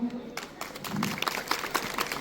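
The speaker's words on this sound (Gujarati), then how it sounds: "પહેલા તો એને તાળીઓથી વધાવો" Applause rises from a crowd at a prize distribution ceremony, scattered claps building after a short quiet start, with a voice faintly underneath.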